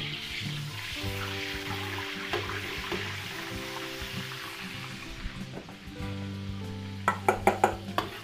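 Oil and margarine sizzle in a pan, a steady close frying hiss that runs throughout, broken near the end by a few sharp clinks and stirring knocks.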